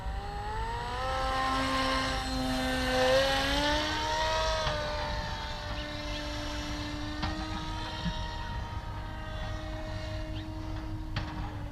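A powered paraglider engine drones steadily during a low pass, with a buzzing tone that rises and falls in pitch as throttle changes, fairly faint against wind noise.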